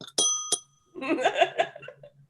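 A voice imitates a bell with a short series of sung dings, followed by some laughter, close and clear with no real bell heard.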